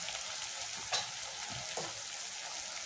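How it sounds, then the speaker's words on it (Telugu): Fish and drumstick pieces dropped into simmering dry fish curry, a steady frying sizzle with a couple of soft splashing plops as the pieces go in, close and moderately loud, no talking. "ఇప్పుడు ఇందులో చేపలు ములక్కాడలు వేసేసుకుందాం."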